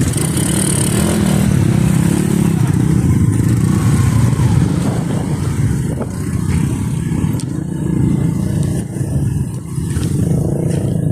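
A motorcycle engine runs loudly and continuously nearby, revving with a rough mid-range drone, over heavy background noise that may include wind or water.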